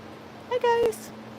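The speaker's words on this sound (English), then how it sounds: "Got some cats talking down here." A cat meows outdoors in warm weather, one short drawn-out call standing out briefly over steady background noise.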